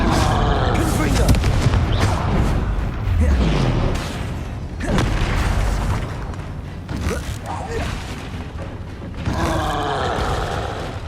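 A Confringo blasting spell explodes in Hogwarts Legacy amid a battle with a troll, giving loud booming blasts and roaring impacts over continuous heavy combat noise.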